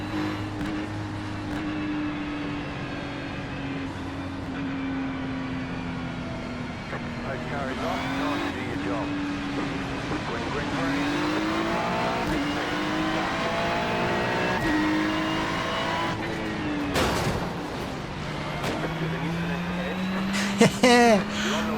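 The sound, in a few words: Ferrari race cars at a race start at Interlagos in the video game iRacing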